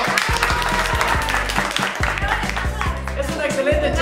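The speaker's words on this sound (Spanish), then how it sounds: "Un aplauso para Mariana Bonilla" Studio audience applause for a chef who cooked the food, rising over a steady musical beat with faint voices mixed in, lasting a few seconds.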